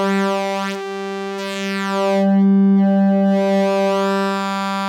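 Sequential Pro 3 synthesizer oscillator with shape modulation: a loud, sustained harmonic-rich drone whose upper partials sweep and shift in timbre as the waveform morphs, no voices.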